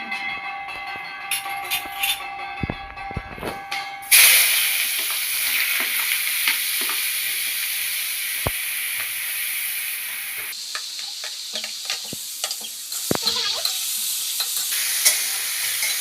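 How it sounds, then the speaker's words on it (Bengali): Onions for a mutton curry hit a pan with a sudden loud sizzle that settles into continuous frying. Repeated scraping stirs cut through it, and there is no talking. "একটু লাল করে ভাজা হয়ে যাবে"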